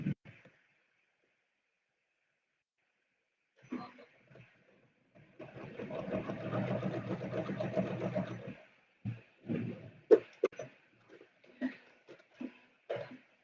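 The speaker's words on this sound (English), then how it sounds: "I'm just stitching" A sewing machine stitching a crazy patchwork quilt block runs in a steady whirring burst of about three seconds, with someone talking briefly before and after it.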